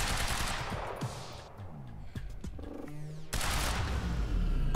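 Rapid gunfire in the Quantum Break video game, a loud continuous burst of shots with ringing metallic tails and a sharp renewed volley near the end, no talk.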